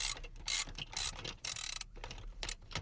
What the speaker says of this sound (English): I can get my Allen wrench socket with an extension down in there to loosen it.